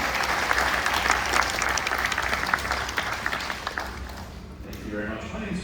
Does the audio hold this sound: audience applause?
yes